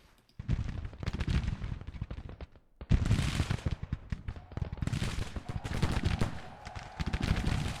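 Civil War battle in the Grand Tactician strategy game, with dense rolling gunfire and artillery booms that crackle in irregular bursts, brief pauses breaking the rapid volleys, heard loud and close with no talk.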